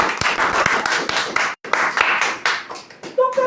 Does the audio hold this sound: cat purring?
no